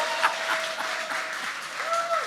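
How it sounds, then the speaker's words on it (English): A studio audience claps briefly, a soft, fairly distant patter of applause with a steady tone humming alongside it and no clear talk over it. "you two, you clap for me"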